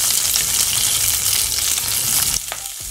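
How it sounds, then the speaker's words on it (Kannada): Chopped onions sizzle loudly in hot oil with mustard seeds in a pan, a dense continuous frying hiss with a light stir near the end. "ಈರುಳ್ಳಿ ಕಲರ್ ಚೇಂಜ್ ಆಗಿದೆ, ಇಷ್ಟು ಹುರ್ಕೊಂಡ್ರೆ ಸಾಕು"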